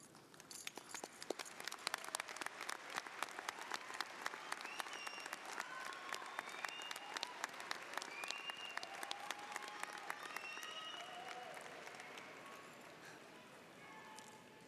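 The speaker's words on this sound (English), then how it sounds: "Will the students involved in these programs please stand for our applause?" An audience at a school assembly claps for standing students, producing a fairly faint, distant wash of many hands that holds steady and then thins toward the end, with a few high tonal chirps mixed in.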